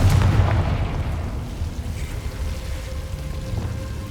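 An explosive Confringo spell blast from Hogwarts Legacy booms in a heavy low rumble that fades over several seconds, loud and close with no talk.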